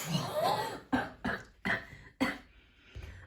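A person coughs several times in short, harsh bursts, close and fairly loud, with brief pauses between them.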